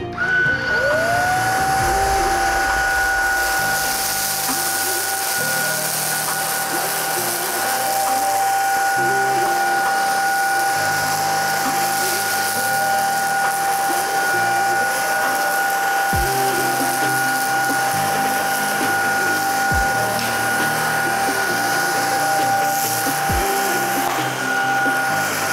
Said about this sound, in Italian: Utilizzo anche in questo caso la potenza minima di aspirazione.